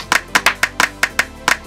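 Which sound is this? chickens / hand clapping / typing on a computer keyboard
hand clapping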